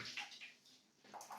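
Tap water runs faintly while food is rinsed in a kitchen during meatball preparation, a short soft wash of flowing water with small surges.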